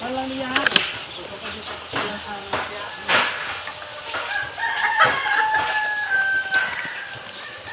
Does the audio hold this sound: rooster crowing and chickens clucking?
yes